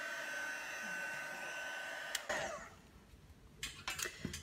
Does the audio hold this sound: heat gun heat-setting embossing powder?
yes